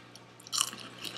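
A brief, close crunch of someone chewing crunchy baked Flamin' Hot Cheetos, loud for a moment and then fading.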